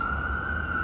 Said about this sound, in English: We got the sirens, everything.